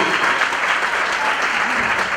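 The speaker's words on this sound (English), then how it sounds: "Please clap better for them." Audience at a film awards gala in northern Uganda claps in a loud, sustained wave of applause, with faint crowd murmur underneath.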